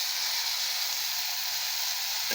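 Potato masala with curry leaves sautéing in a pan gives a continuous, loud, even sizzle and hiss with no breaks and no voices.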